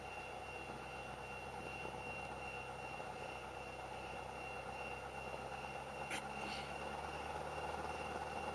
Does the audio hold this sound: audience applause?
no